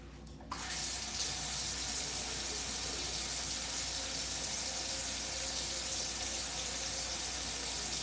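Water from a tap runs steadily and close for several seconds, wetting loose curly or wavy hair at the roots, a continuous broadband splash and hiss after a brief quiet start, with no talking.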